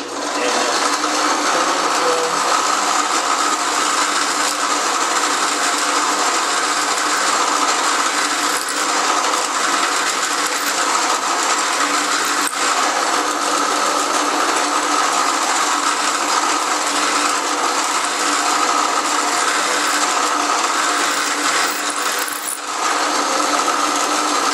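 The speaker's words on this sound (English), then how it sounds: "See how it drills the holes in there." A drill bores holes into a deer antler saddle, giving a steady, continuous mechanical whir with a faint ratcheting texture that runs unbroken for over twenty seconds, with no talking.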